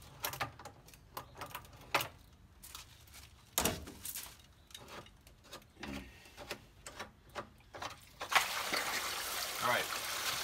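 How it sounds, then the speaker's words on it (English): Dirty water from a pool filter's drain cap begins gushing out near the end, a steady close rush that follows scattered clicks and clanks of handling the filter, with brief voices in between. "you're gonna see all that nasty water is gonna run out"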